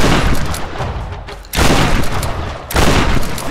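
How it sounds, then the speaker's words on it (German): Loud, dense bursts of gunfire in a Tomb Raider game come in two sharp volleys separated by a brief lull, close and overpowering. "Schuss!"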